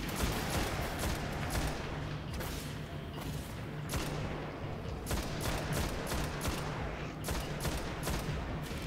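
Continuous gunfire in the console shooter Destiny: The Taken King, loud repeated shots cracking over a dense, rumbling battle mix that lasts throughout.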